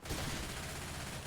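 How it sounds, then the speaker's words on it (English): Machine gun fire in Left 4 Dead, a dense, steady burst of rapid shots that stays quiet in the mix throughout the short moment. "Going with the machine gun."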